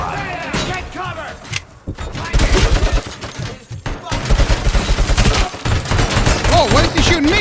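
Gunfire in the game RoboCop Rogue City, set in Detroit: dense rapid shots and heavy bursts fill most of the stretch, loud and close, with voices talking and shouting over the shooting.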